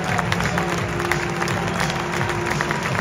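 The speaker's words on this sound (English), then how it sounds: "Standing ovation from everybody left in the crowd." A football crowd at Bolton against Barnsley gives a standing ovation, steady applause and clapping with a low crowd murmur holding at an even loud level throughout.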